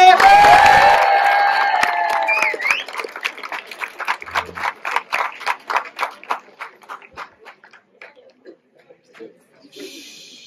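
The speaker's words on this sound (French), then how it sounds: "On applaudit Anne, s'il vous plaît." A school slam poetry tournament at a collège in Malestroit starts with a burst of cheering and shouting. It gives way to an audience clapping in rhythm, loud at first, then thinning and slowing into scattered claps before fading out.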